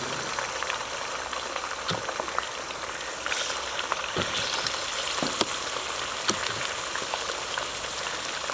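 Chicken pieces deep-frying for a restaurant-style karahi, a loud dense bubbling sizzle of oil that runs continuously, with faint scattered pops and clicks.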